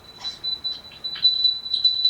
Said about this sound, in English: It's a personal alarm.